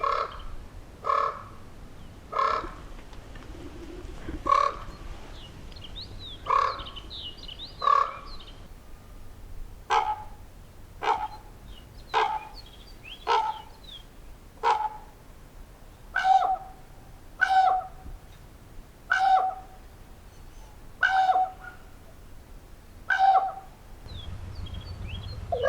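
A crow perched on a street lamp calls in a long series of loud, hoarse, evenly spaced squawks, about fifteen calls in a steady rhythm, close by with a quiet outdoor background.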